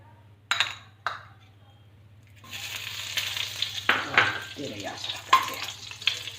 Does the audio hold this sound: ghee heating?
yes